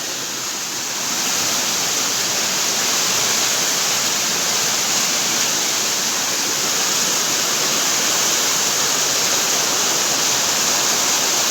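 A waterfall in Shuar country pours in a dense, steady roar of rushing water, loud and close, swelling up within the first second and holding constant with no voices.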